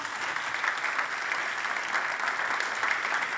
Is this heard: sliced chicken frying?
no